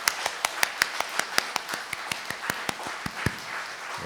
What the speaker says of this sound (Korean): 우리 감사의 박수를 주님께 드릴까요